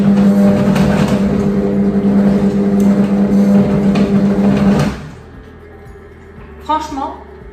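A Fagor Connect kitchen robot runs at speed 1 while cooking chicken basquaise at 100 degrees, giving a loud, steady motor drone with knocking and rattling in the bowl that cuts off abruptly, leaving a quiet room and a brief clatter.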